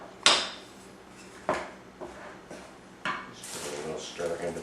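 A wooden spoon stirs flour in a bowl, making several sharp knocks and scrapes against the bowl with gaps between them, close and fairly quiet.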